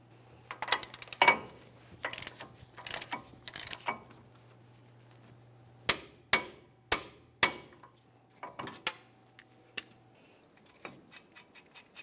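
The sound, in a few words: wrench tightening axle nut on Dodge Dakota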